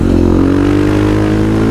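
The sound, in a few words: KTM 500 EXC supermoto engine revving with FMF exhaust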